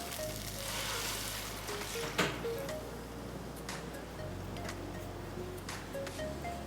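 Chickpea milk with onion in a pan on the stove gives a faint, steady sizzle and soft bubbling, with a few light clicks and taps, and no one speaking.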